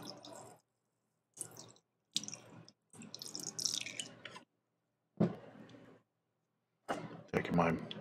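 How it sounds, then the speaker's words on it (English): Water sloshes and splashes as red airbrush paint is dumped out of an old, cheap coffee mug and the mug is rinsed, in several separate close bursts with short silent gaps. "Dumping out the paint in it, and then just rinsing it out."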